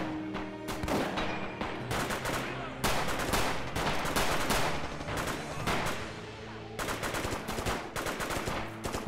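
Loud, dense explosions and crackling gunfire from the Red Orchestra 2 video game, with a grenade booby trap (IED) detonating amid repeated heavy blasts in an urban battle setting.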